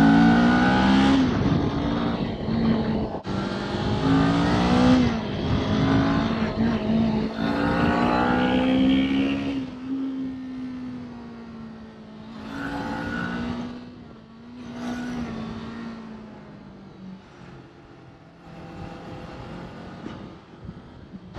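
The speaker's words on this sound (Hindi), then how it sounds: "अभी आ रहा है फहीम रेस मारने के लिए." A car races and revs along the road toward Uri near the India–Pakistan Line of Control, its engine note rising and falling through repeated loud accelerations and gear changes, close by and dominating, later easing to a quieter steady drone.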